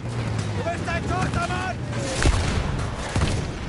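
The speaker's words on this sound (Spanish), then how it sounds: "¡Disparen explosivos!" Battlefield 1 gameplay with explosives going off and artillery firing: sharp booms and thuds in the second half, heard over a dense battle din while voices shout at the start.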